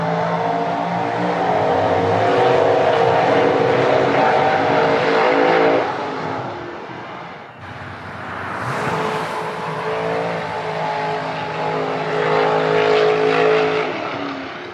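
Race cars at the Freedom Factory track, about 1,000 feet away: a continuous loud engine roar with rising and falling revs and a brief dip partway, heard outdoors at a distance, with a voice faintly mixed in.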